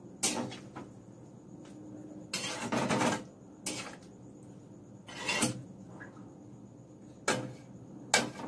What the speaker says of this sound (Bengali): জল দিয়ে এবার এটাকে আমি ঢেকে দেবো।